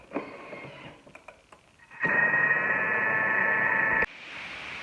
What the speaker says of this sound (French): Et on va mixer 20 secondes à la vitesse 4